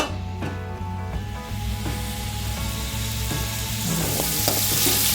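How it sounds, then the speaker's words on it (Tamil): Onions sautéing in oil for a Kerala kadala curry, a close crackling sizzle that grows louder over a low steady hum, broken by occasional spatula scrapes and knocks. "எண்ணெய் ஊற்றி வெங்காயத்தை போட்டுக்குவோம். வெங்காயத்தை போட்டு நல்லா வதக்கிக்கோங்க."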